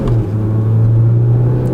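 Close, steady drone of a 2016 Kia Soul engine pulling under acceleration onto a straight, a low hum that holds with little rise in pitch.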